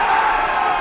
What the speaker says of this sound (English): The Young Munster crowd seem to enjoy that call.